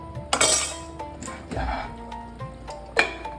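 Metal lid set down on a pot of mutton cooking in a pressure cooker, giving a few sharp clinks and clatters close by, with one louder knock near the end.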